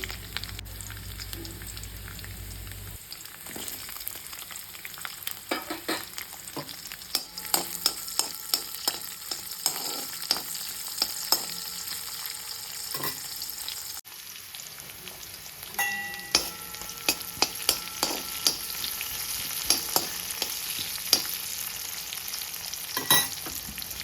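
Onion pieces fry with curry leaves in a pan for a spinach chutney, giving a steady soft sizzle throughout. Frequent scraping clicks from stirring sit over the sizzle, fairly quiet and close, with no talking.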